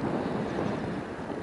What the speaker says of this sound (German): weil es ist ein bisschen windig hier oben